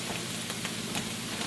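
Carrot, celery and cabbage hiss and crackle in a hot pan, a steady close sizzle with no talk.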